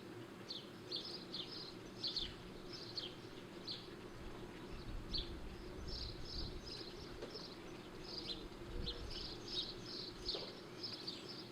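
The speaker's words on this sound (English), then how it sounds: "I've been recording the sounds outside the workshop, so you can have some pleasant bird noise" Chirping birds call repeatedly outside a workshop, a steady stream of short, bright, high calls over a low outdoor rumble, with an insect-like buzz running through.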